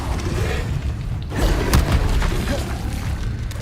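A Confringo fire spell in the Hogwarts Legacy video game detonates with a deep booming rumble and crackling impacts that swell mid-clip over steady game noise.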